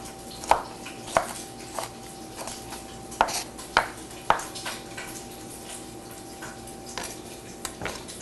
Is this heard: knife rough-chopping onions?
yes